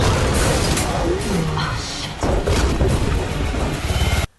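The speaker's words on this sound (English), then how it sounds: "It's a silver grenade, but really, an explosion in a confined space, never a good thing." A silver grenade bursts inside a confined vent in a film action scene, a loud, sustained roaring blast with crashing debris and a second surge of rumbling before it cuts off sharply.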